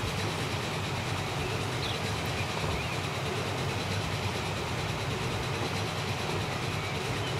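A train in the Transport Fever game runs steadily along the line at speed, giving a continuous rumbling rail noise with a faint clickety-clack, constant and moderately loud throughout with no voices.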